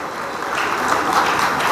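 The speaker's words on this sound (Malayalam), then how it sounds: "ശിവൻകുട്ടി സാറിന് ഒരു വലിയൊരു കൈയടി കൊടുക്കുക എല്ലാവരും" Brief audience applause at a state conference of the All Kerala Scientific & Surgical Dealers Association in Kovalam, a steady broadband wash of many hands clapping, rising slightly and holding without voices.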